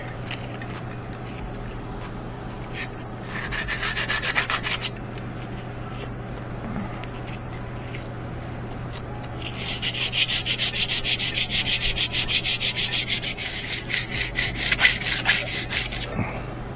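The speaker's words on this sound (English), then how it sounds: "get a piece of sandpaper and polish the shaft so we can get all this stuff off of here" Sandpaper polishing the shaft of an old washing machine, giving rhythmic scratchy back-and-forth rasping in close bursts, brief at first then a longer vigorous stretch over a low steady hum, with no speech.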